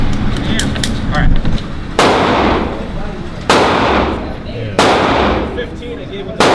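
Three loud, sharp gunshots ring out at an indoor gun range at roughly one-and-a-half-second intervals, each followed by a short decaying echo, with faint chatter and handling noise before the first shot.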